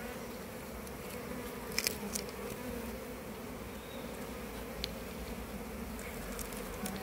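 Honey bees hum in a steady, close drone from an opened beehive being checked for disease, with a few faint clicks and handling knocks of frames.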